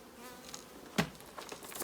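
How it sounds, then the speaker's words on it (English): Bees swarm close around the edge of a hive, producing a faint, wavering buzz with one sharp nearby knock partway through. "So many bees in there."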